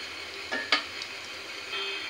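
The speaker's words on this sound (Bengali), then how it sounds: "আমি চুলায় ভাজতে দিয়ে দিয়েছি কয়েকটা বানিয়ে" Tuna tikka patties fry in a pan on a stove, giving a faint, steady sizzle broken by two or three short scrapes as the pieces are turned.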